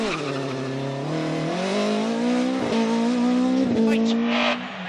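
A rally car at speed on a special stage of the 2012 Manx National Rally, its engine loud and close, climbing in pitch through the gears with brief dips at each shift and a steady roar throughout.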